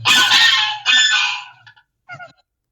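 A nesting swan gives harsh, honking cries while defending its nest against an intruder: two long loud calls in quick succession, then a shorter, fainter call after a pause, with no other sound around them.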